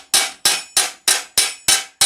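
A hammer strikes the edge of a steel thigh plate for medieval armour, cupping it over: seven sharp, ringing metallic blows at a steady, even rhythm, close and loud, with no talking.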